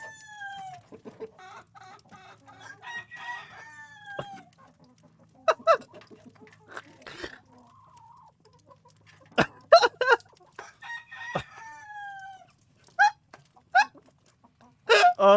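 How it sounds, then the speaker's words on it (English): Chickens and a rooster cluck and squawk up close while feeding, with scattered sharp calls, a rising crow-like cry and sudden bursts of louder cackling between quiet pauses. "Oh my god, it's fucking chickens, dude."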